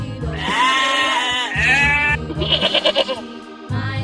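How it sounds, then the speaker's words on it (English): Sheep bleating in a series of wavering, harmonic cries, loud and close, with a short broken bleat near the end and no voices. "Sheep."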